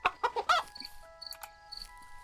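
Chickens on a simulated ranch in a farm-and-store game let out a quick burst of several clucks, then quieter scattered clucking under a faint steady electronic tone.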